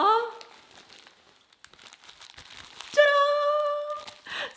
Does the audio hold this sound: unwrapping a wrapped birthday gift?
yes